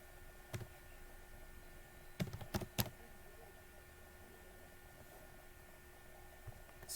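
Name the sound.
typing on a computer keyboard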